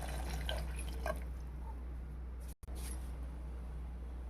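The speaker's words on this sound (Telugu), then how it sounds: "ఇప్పుడు ఆ ఉలవలు ఉడికించుకునే ప్రాసెస్లో వచ్చినవి నీరు ఇవి పోసుకోవాలి." Horse gram cooking water poured into a pot while making ulava chaaru, a steady trickling and dripping pour over a constant low hum, with a brief dropout partway through and no talk.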